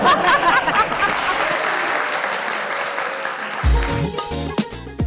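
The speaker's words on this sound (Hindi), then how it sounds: "भरपूर तालियों में इस्तकबाल कीजिएगा" A studio audience on a talk show breaks into loud, sustained applause, dense clapping filling the room, followed by music kicking in under the cheering.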